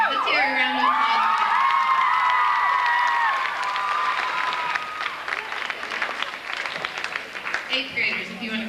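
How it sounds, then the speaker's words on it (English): A crowd at a middle school science fair awards and sports pep rally claps and cheers loudly, with whoops and children's shouts over sustained applause that gradually thins toward the end. "let's hear a round of applause"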